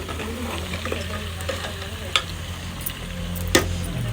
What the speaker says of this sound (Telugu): మంచిగా కలపాలి